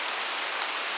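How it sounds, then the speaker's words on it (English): Wind-driven rain from Hurricane Ian pours sideways in a dense, unbroken hiss that stays loud and steady for the whole second, with no voices over it. "The rain is blowing"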